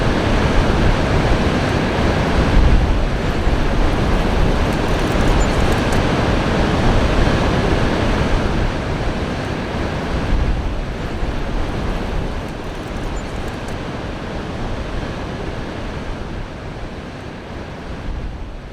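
Horseshoe Falls at Niagara roars as a constant loud, broadband wash of falling water and mist, with wind buffeting the microphone and no voices over it.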